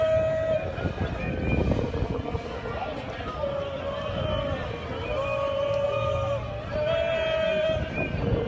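A tram rolls past during a street protest in Paris near Nation, with riot police deployed nearby; a steady rumble and faint wheel squeal carry through the crowd's chatter for several seconds.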